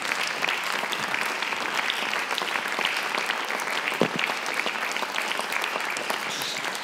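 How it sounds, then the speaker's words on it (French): Audience applause at a theatre forum event, steady dense clapping from a large crowd that continues evenly throughout, with no voices on top. "Und Sie, meine Damen und Herren, dürfen auch applaudieren."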